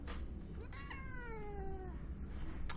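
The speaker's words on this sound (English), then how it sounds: "Kitty." Cat meowing in the video game Omikron: The Nomad Soul: a single drawn-out, falling meow with clear harmonics lasting over a second, set against a steady low background hum.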